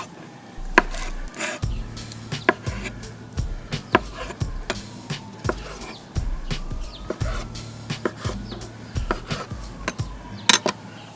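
Large grapefruits are cut in half with a knife, giving a series of sharp, close thunks on a cutting board at an uneven pace, with quieter handling sounds between them.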